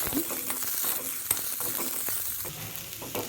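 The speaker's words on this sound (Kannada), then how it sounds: "ಚೆನ್ನಾಗಿ ಹುರ್ಕೋತಾ ಇದ್ದೀನಿ ಈರುಳ್ಳಿ ಚೆನ್ನಾಗಿ ಬಾಡಬೇಕು ಅಲ್ಲಿವರೆಗೆ ಹುರಿಬೇಕು" Onions sizzle as they fry in a pan for an elephant foot yam curry. A constant hiss runs beneath occasional spatula scrapes and one sharp metallic click, close up and with no one talking.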